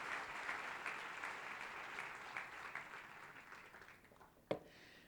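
A church congregation applauds in a sustained, moderately loud round of clapping that gradually thins, ending with one sharp knock near the close.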